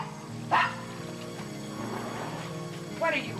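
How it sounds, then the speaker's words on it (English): A dog gives two short barks, a few seconds apart, over a steady low hum of background noise. "was out on the porch barking"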